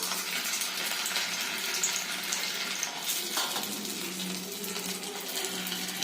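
Dal batti dough balls sizzle and crackle steadily in hot oil, a continuous close frying hiss with faint bubbling, no voices.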